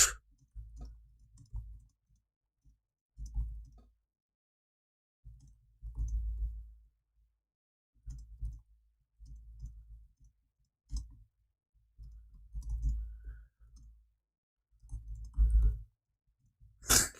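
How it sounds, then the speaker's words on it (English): Bursts of clicking keystrokes on a computer keyboard while typing a social media post, coming in short irregular clusters separated by silent pauses, fairly close and alone. "I was just typing something out on Twitter"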